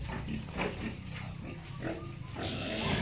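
A large pig of around 40 to 50 kilograms, about to receive a vitamin injection, grunts repeatedly at close range in short rough bursts, amid farmyard background noise.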